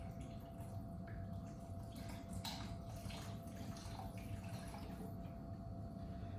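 Beef broth pours into a pot already holding onion soup mix, a quiet continuous liquid splashing and gurgling with a few brief bursts, steady and close throughout.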